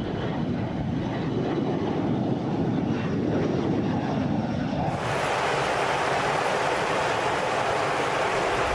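Jet engines of a Boeing KC-135R tanker, a military aircraft refitted with bigger, higher-thrust engines, give a loud, continuous roar that grows brighter and more hissing partway through.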